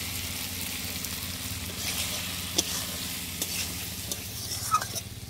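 Fried potatoes and prawns tipped into a cooked-down spice paste in a pan, giving a steady close sizzle with stirring and a few sharp utensil clicks throughout.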